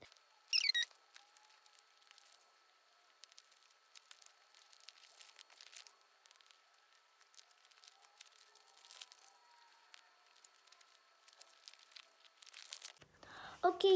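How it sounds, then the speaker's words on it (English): Adhesive tape ripped and crinkled while being wrapped around a handmade paper squishy, with a sharp tear near the start, faint sticky crackles through the middle and another loud rip and crumple at the end. "Okay guys, I'm done taping it."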